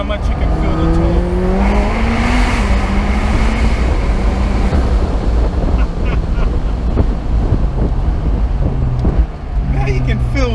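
McLaren 720S twin-turbo sports car pulling hard on the road, its engine note climbing steadily in pitch through long rising sweeps, heard from inside with a constant blanket of wind and road roar.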